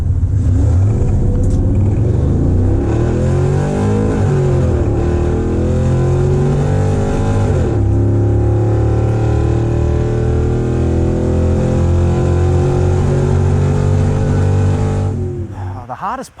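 LS-swapped rear-wheel-drive Toyota Corolla drag car accelerating hard, a loud V8 roar climbing through rising revs with gear-change dips before fading at the end, with a voice talking over it.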